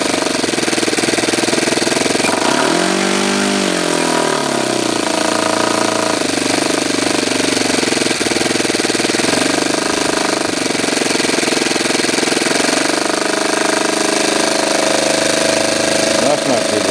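A Saito twin-cylinder model engine runs loud and close, with a harsh rapid buzz that dips and settles into a steadier idle partway through.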